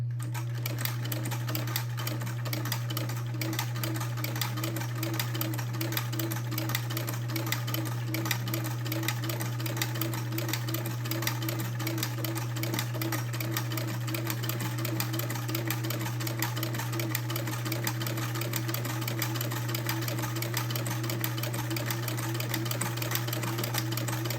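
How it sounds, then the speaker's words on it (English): A sewing machine fitted with a vintage buttonhole maker stitches a buttonhole, a steady fast mechanical whir and rapid clatter running loud and unbroken throughout, close up. "Lower my presser foot, and then start sewing another buttonhole."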